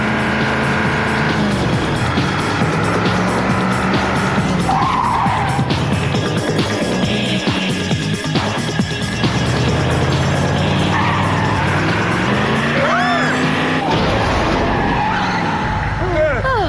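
An animated car driven hard rally-style, with tires skidding and squealing loudly through most of the stretch over a steady engine roar; voices speak intermittently under the noise.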